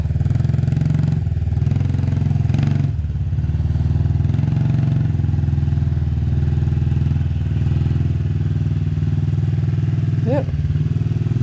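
A motorcycle engine runs with a steady low drone, a learner rider slowly turning it around in a tight U-turn near a fence, with a brief voice near the end.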